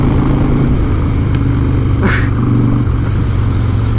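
A 2016 Harley Davidson Breakout with a Stage 1 setup rumbles loudly under the rider, its engine note shifting as it is downshifted through the gears, with wind noise throughout.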